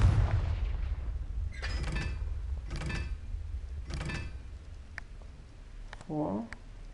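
The Confringo explosion spell from Hogwarts Legacy goes off three times at even intervals, each a sharp crackling burst over a low rumble, followed by a brief rising whoosh.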